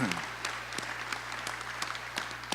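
A staff audience at a school district back-to-school presentation claps in a steady, dense round of applause, with sharper individual claps standing out over a low constant hum.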